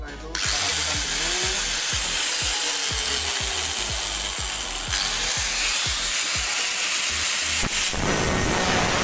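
An angle grinder working on a motorcycle gear shaft, giving a loud steady whine with repeated rhythmic rasping strokes against the metal, close and continuous.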